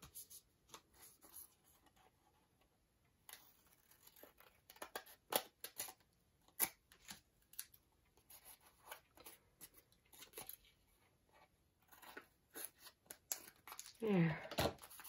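Scissors snipping the corners off paper scraps for junk journaling, with faint quiet snips and soft paper rustles spread across a quiet room, and a slightly louder crinkle near the end.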